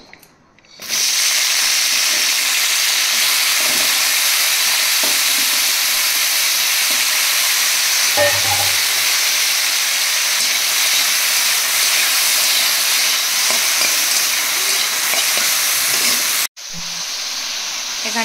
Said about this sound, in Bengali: এখানে এখন চিচিঙ্গা আলু পোস্ত হচ্ছে